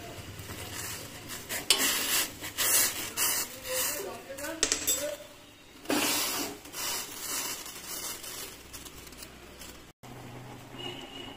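A spoon stirs Maggi noodles in a pot, giving repeated scraping and clinking strokes of metal on the pan that come in uneven bursts, close and moderately loud, with a short pause near the end.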